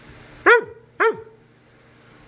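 A dog gives two loud, sharp barks about half a second apart, close by, with quiet background between them and no talking.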